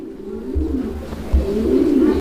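Pigeons cooing at a fancy pigeon market stall, a close, loud, low rolling coo repeated twice in quick succession with no talk.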